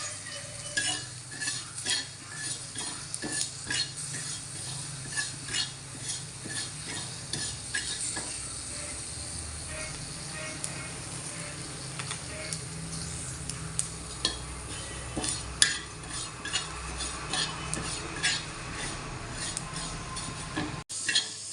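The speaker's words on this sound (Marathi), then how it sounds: "आता थोडे तीळ भाजून घेते।" Sesame seeds dry-roasting in a pan while being stirred, a steady soft sizzle with frequent scraping ticks from the spoon that carry on throughout, fairly quiet and with no voice.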